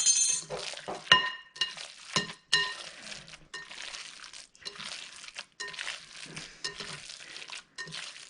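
Stuffed courgette filling is stirred in a pan, giving irregular scraping and clinking strokes over a soft sizzle, close and fairly loud.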